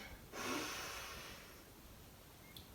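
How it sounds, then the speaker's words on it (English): Slow, deep breath drawn in and pushed out during a beginner yoga session, seated cross-legged, heard as a soft close airy rush that swells and fades, with no talking. "we're going to breathe in and breathe out"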